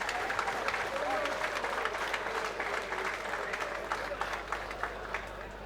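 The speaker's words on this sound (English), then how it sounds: "Ladies and gentlemen, a round of applause for these two phenomenal fighters." Sustained audience applause for two fighters at an MMA event, a dense crowd of clapping that holds steady throughout, with a voice talking over it.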